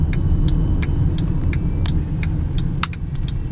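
A 2012 Honda Pilot EX-L 4WD engine hums steadily from inside the cabin while driving, a low continuous drone with faint repeated light ticks and rattles over it and no talking.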